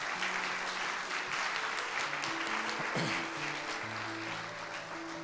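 Sustained applause from a large congregation at a Sunday church sermon, a continuous wash of clapping with faint musical tones humming beneath it.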